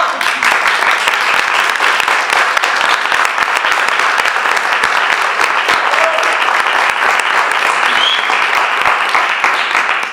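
Audience applause fills a hall at an opening speech for a Extremadura languages day, loud, dense and sustained clapping from a large crowd with scattered cheers mixed in.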